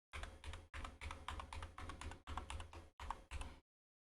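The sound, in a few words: typing on a computer keyboard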